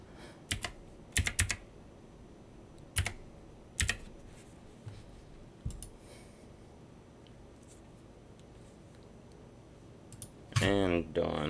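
Scattered keyboard clicks from typing a code on a computer come in short clusters, close and fairly crisp, ending in a louder burst of handling noise.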